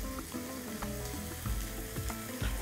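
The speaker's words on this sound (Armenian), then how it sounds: "լոլիկի ճիր ձիթայողի մեջ" Tomato paste crackling in hot olive oil, a low steady fizz broken by repeated soft scraping and tapping as it is stirred. Heard close up and fairly quiet, with no voices.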